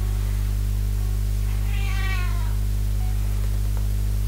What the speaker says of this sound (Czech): Číča mi tady mňouká.